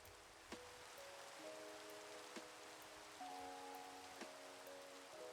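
Minecraft rain falls as a faint, steady hiss throughout. Quiet sustained musical tones and a few soft clicks sit beneath it, and no one speaks.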